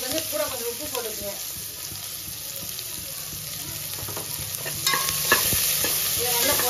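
Sliced onions sauté with salt in a pan, giving a soft continuous sizzle with scraping stirs that grow a little louder toward the end, and a faint voice at times.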